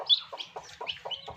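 Newly hatched turkey chicks and local hen chicks peep close by, a rapid series of six or so high, thin chirps in quick succession with no talking.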